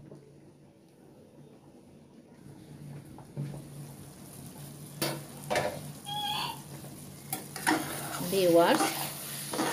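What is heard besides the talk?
dried fish curry with tomato, onion leaves and green chilli cooking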